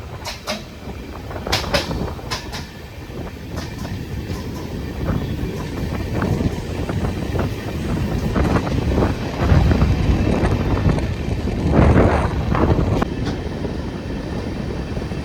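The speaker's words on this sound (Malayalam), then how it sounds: "ലാലാഗുഡയുടെ ഒരു G9 വരുന്നത് പാസഞ്ചർ ആയിട്ട് വരുന്നത്." A Lallaguda-shed WAG-9 electric locomotive hauling a passenger train passes with steady rumbling rail noise and repeated sharp wheel clatters over joints, loud and close, with heavy wind buffeting throughout.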